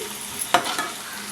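Onions fried in a pan with curry leaves, a brief soft sizzle with a single sharp stir or scrape near the middle, otherwise low and steady.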